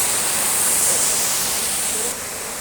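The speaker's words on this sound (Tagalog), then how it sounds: "ganda ng falls." A waterfall at Agoriani, Greece rushes as a loud, steady hiss of falling water, dropping slightly in level near the end.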